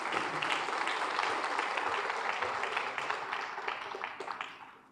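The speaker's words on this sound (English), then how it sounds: "How about another round of applause for Lieutenant Jason Perez?" Banquet audience at a firefighters' awards ceremony breaks into sustained applause, a dense roomful of clapping that holds steady and then tapers off toward the end.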